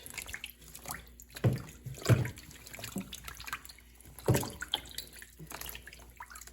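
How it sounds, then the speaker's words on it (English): Mullein leaves are swished and rinsed in water: quiet sloshing with a few distinct splashes spaced irregularly, heard close and alone. "And then I'm going to rinse them."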